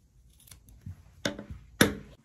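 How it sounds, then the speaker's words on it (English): Scissors cut through two pinned layers of jacket fabric in a few crisp snips, growing sharper and louder toward the end, with no talking. "两层一齐剪"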